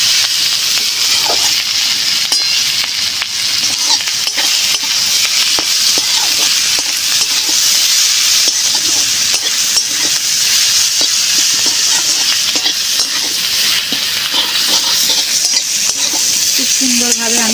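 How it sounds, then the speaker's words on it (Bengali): Bottle gourd greens and cabbage sautéing in a pan with salt and sugar, a continuous loud sizzle and hiss with frequent scraping and stirring clatter throughout, close up. "সুন্দরভাবে আমি কষে নিচ্ছি"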